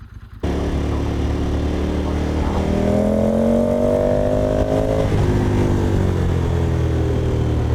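A Ducati motorcycle engine ticking over at idle, a steady close low rumble with a faint rising whine in the middle before settling back, with no talk.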